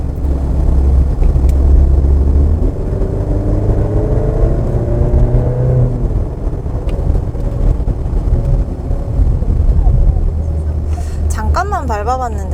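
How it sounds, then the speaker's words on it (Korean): A Maserati Grecale accelerates with its engine revving into a deep, rising drone, heard from inside the car with wind noise, the pitch climbing and then easing off under a voice speaking over it. "잠깐만 밟아봤는데도 이 마세라티 특유의 엔진음이 굉장히 귀에 확 꽂히는 그런 느낌이 듭니다"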